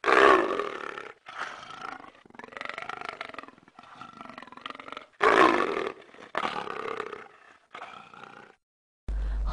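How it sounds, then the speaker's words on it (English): A leopard roars in a series of loud, close rasping bursts separated by short pauses, with no other sounds between them. "Leopard."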